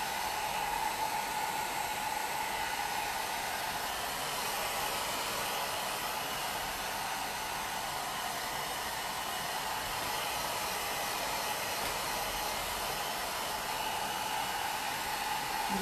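A hair dryer runs steadily and close up for the whole stretch, blowing on two plaster pieces during a plaster-craft class, a continuous even whoosh with no voices over it.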